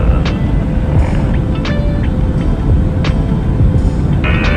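FPV model airplane flying over the Manavgat gorge and coming in to land, a continuous droning motor hum with wind rush, loud and close throughout, with faint brief ticks and chirps over it.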